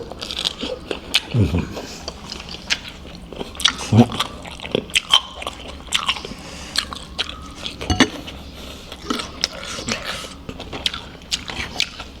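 Fried mantis shrimp, cooked with fish sauce, crunched and chewed up close at a seaside meal, giving irregular crisp bites and crackles spread throughout while a person talks.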